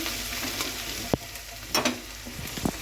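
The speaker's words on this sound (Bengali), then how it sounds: "এই যে পেঁয়াজটাকে ভাজছি" Onion frying in a pan makes a close, continuous sizzle, with a few quick clicks and scrapes as it is stirred over a short stretch.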